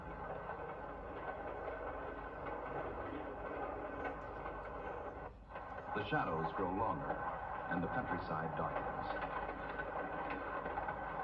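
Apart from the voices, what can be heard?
passenger train speeding along rails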